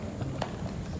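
Horses' hooves clip-clop at an outdoor Eagle Scout project dedication ceremony, a low, steady patter of soft steps close by over a dull, rumbling background, with no voices.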